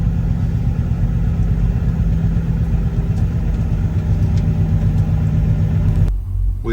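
A loaded semi truck hauling a heavy 36,000-pound pumpkin load pulls along with a loud, steady low engine rumble that drops off abruptly at the end.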